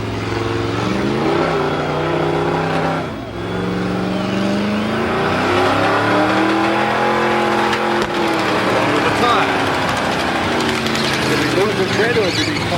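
A big, heavy car does a smoky burnout on the Summernats donut pad: a loud, sustained V8-style roar with rising and falling revs, briefly dipping near the start before pushing hard again.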